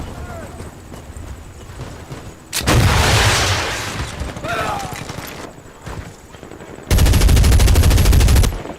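Rapid machine gun fire in the video game Medal of Honor, loud sustained bursts with a break between them, and someone talking excitedly over the shooting.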